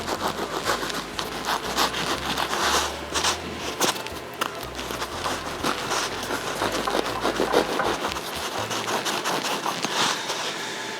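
A knife saws through a garlic bread loaf, cutting it in half with close, rhythmic rasping strokes that continue steadily for several seconds.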